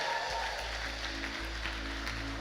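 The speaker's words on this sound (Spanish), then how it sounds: "Denle un fuerte aplauso a Dios si se emociona por eso." Church congregation applauding in a large auditorium, a steady wash of clapping with a low hum underneath.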